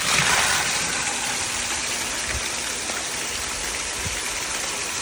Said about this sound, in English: Okay, so turning the pump on, and it's on closed right now. So I'm gonna go ahead and turn it to backwash.